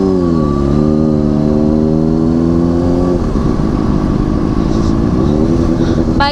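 A Honda CBR superbike engine idles and revs steadily close up, a loud continuous motor drone that shifts pitch partway through, alone with no talk.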